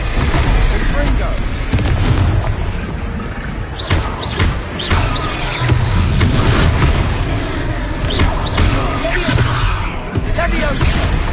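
Confringo fire-blast spells exploding in Hogwarts Legacy combat, a series of sharp booms and thuds scattered across the stretch, loud and close, with a voice speaking over the battle.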